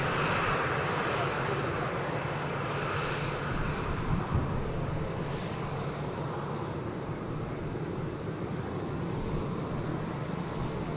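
At Manchester Airport, an airliner's engines roar in a broad, steady wash that holds at moderate distance for several seconds, with no voices.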